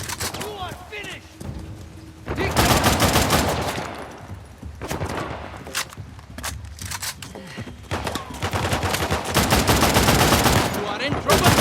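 Gunfire in a shootout in the video game Uncharted: The Lost Legacy, with bursts of rapid shots separated by brief lulls and shouting character voices between them.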